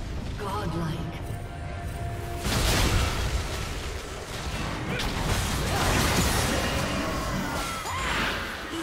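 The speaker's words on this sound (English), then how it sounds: "Red team's turret has been destroyed." A turret being destroyed in a League of Legends top-lane match, Yorick versus Camille: layered crashing, whooshing and explosive booms swell around the three-second mark and again near six seconds, busy and mechanical, with an announcer voice over the clamor.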